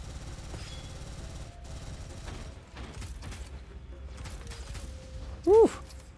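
Shots from the number 2 gun in the shooter Gunfire Reborn come in irregular bursts of rapid gunfire amid game effects and a brief loud tonal blast near the end, mixed fairly close.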